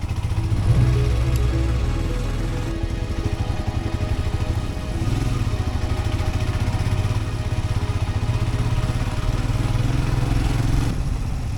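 Royal Enfield Scram 411 and KTM 390 Adventure motorcycles climbing a steep gravel path in first gear, a loud, steady, close engine drone with a low thrumming pulse and no break.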